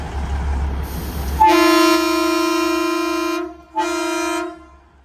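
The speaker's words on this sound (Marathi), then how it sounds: "बरोबर 8:50ला ट्रेनचा भोंगा वाजलेला आहे." The Neral to Matheran toy train sounds its horn on departure: a loud, close, steady blast of about two seconds, a brief pause, then a second shorter blast, with no talking.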